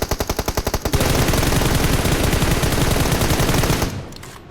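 In the PUBG Mobile video game, loud automatic gunfire starts as rapid evenly spaced shots, then merges into a dense continuous burst lasting about three seconds before cutting off abruptly.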